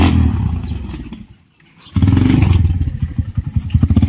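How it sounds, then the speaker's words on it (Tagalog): A green motorcycle tricycle pulls up with a rough, loud engine putter. After a brief dip it comes back close by, a throbbing, uneven idle with some rattling and clatter. "ayan na po ang ating tricycle na si Bumble Green"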